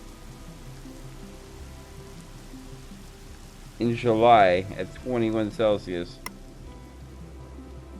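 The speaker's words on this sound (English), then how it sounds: "Oh boy, it's raining." Steady rainfall in the colonial-era game Colonize, a faint even hiss of drops running the whole time while someone talks for a few seconds in the middle.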